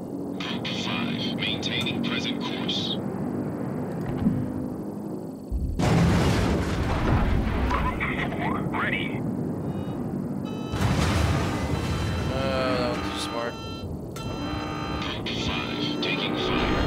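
Carrier planes launch from the USS Lexington in World of Warships, with engine roars swelling and passing in two loud bursts over game ambience and radio-style chatter.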